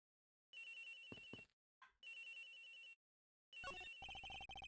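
A telephone rings in the Ace Attorney Investigations video game, sounding in three bright electronic bursts separated by short silences. The last burst overlaps other game sounds.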